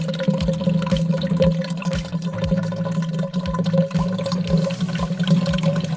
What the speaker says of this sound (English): Let me pour it out and see if it's at least softened the noodles